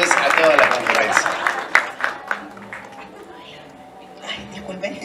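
Wedding guests give the bride a burst of applause as she steps up to address them, dense clapping and crowd noise that thins into scattered claps and fades within a few seconds, with some voices underneath.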